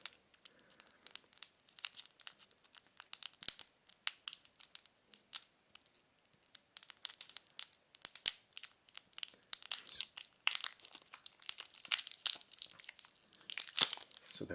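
A 9-volt battery being unwrapped from its packaging, close and fairly quiet, with irregular bursts of plastic crinkling and tearing that grow busier toward the end.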